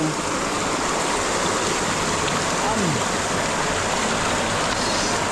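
Water from a spring rushing steadily and loudly at the spot where freshly caught fish are cleaned, a constant close wash of flow filling the whole stretch with no breaks.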